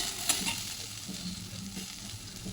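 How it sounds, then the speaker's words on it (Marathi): Onion, garlic and ginger frying in a little oil for a Maharashtrian kothimbir vadi masala, a steady close sizzle with soft stirring scrapes and one brief clink early on, no talking. "मग थोडंसं तेलामध्ये कांदा, लसूण, अद्रक छानपैकी भाजून घ्यायचं"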